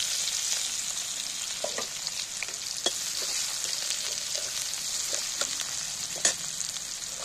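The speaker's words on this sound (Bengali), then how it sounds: "দেখো এবার আমি গরম তেলের মধ্যে পেঁয়াজগুলো, কিছুটা পেঁয়াজ তুলে দিচ্ছি।" Onions frying in hot oil, giving a steady close sizzle with a few light taps and stirs of a spoon, and no talking.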